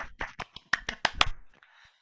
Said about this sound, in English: let's give Ross a round of applause